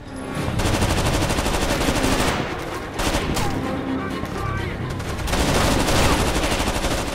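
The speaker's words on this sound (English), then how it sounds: "The sound effects for the guns all sound pretty similar, and they give the guns kind of a weak feel." Dense automatic gunfire from the video game Rainbow Six Vegas 2 rattles continuously and loudly in rapid bursts, with only short gaps between volleys.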